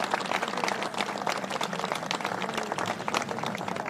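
Steady applause from a crowd at a state government event celebrating a housing zoning law, a continuous dense patter of many hands at moderate distance, with no speech.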